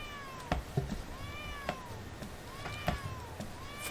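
A cat meows repeatedly in a series of rising-and-falling calls, moderately close, with soft background noise and occasional knocks between the meows.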